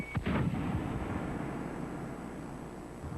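A firework shell bursts with one sharp, loud boom near the start, followed by a rumbling, crackling decay that fades over a few seconds, with no voices.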